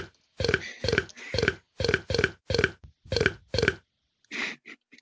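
A rapid series of about nine loud, guttural burps comes in rhythmic bursts, followed by a couple of shorter, softer ones, close and alone.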